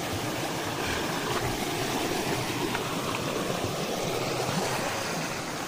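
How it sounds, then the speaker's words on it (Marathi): Stream water flowing out of scrub forest near a temple at the foot of hills, a steady broadband rush that holds evenly from start to end with no voices. "झुडपी जंगलातून हा आपला पाणी येत असतो"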